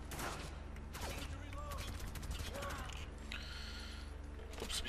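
Gunfire in the video game Spec Ops: The Line, with repeated bursts of shots and mechanical weapon clatter running continuously through the scene, while a voice talks over the action.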